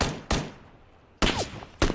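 Gunfire in the battle royale game PUBG: four sharp, loud shots spaced irregularly over two seconds, each with a short ringing tail, no talk over them.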